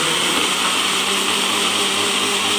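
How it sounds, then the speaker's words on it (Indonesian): A kitchen blender grinding garlic, shallots and ginger with water: a loud, steady, close whirring roar that holds at an even level the whole time, with no talking. "Nah, kita blender sampai halus kalau untuk bawang-bawangan sama jahenya."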